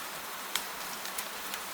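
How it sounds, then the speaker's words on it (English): Soft, gentle night rain falls steadily with a faint hiss and a few scattered drip ticks, quiet and even throughout. "The rain falls with you."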